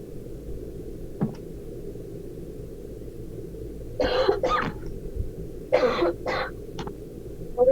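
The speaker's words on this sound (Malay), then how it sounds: "Sebab batuk-batuk tak habis-habis lagi" Several harsh coughs and throat clearings, nearby and loud, coming in short bursts over a low steady background hum.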